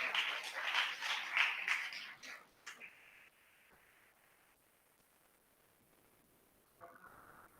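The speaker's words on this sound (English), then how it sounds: "Please clap for him to encourage him." School students at an English debate competition clap for a participant, a few seconds of faint, tinny applause that dies out into quiet hiss before a short burst of noise.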